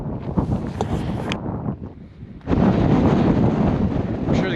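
Strong hilltop wind buffets a camera microphone, giving loud, rough, low roaring gusts that dip briefly and then surge back harder and hold steady.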